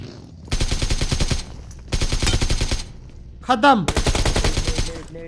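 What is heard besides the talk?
gunfire in a fight scene, from a video game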